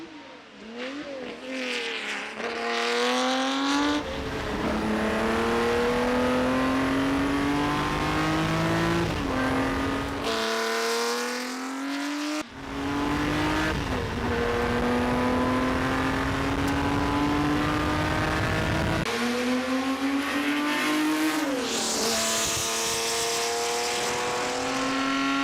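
Ferrari 330 P4 race car with a V12 engine making about 450 horsepower, screaming loudly through repeated rising revs and gear changes, with brief lifts and drops between pulls, close and alone.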